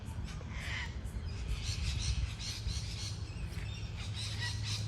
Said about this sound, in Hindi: ऑस्ट्रेलियन तोते हैं।